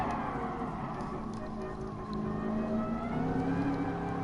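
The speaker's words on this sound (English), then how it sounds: "Listen to that V8 noise" Lamborghini Veneno V8 in Gran Turismo Sport revs hard, a loud droning engine note with layered harmonics that swell and rise in pitch toward the end, heard alone without voices.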